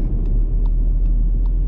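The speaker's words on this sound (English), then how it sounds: "Third gear, turning into a corner and try to accelerate out of it." A 2019 Volkswagen Polo 1.0 TSI with a five-speed manual pulls out of a corner in third gear, its steady low engine rumble continuous and close, with faint periodic ticks above it.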